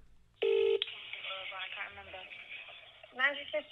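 A short, loud electronic phone tone sounds as a casino is called, followed by a faint garbled voice over the line, then a brief burst of beeps.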